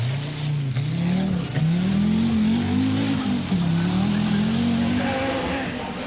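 A 1984 Audi Quattro Sport rally car on the RAC Rally drives hard, its engine note rising and falling through repeated gear changes with brief tyre scrabbling, loud and fairly close throughout.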